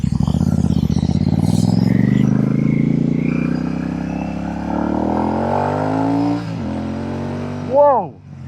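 A Royal Enfield Shotgun motorcycle fitted with AEW exhaust pipes drones loudly and close, its pitch climbing steadily before dropping, then a couple of sharp throttle blips rev it near the end.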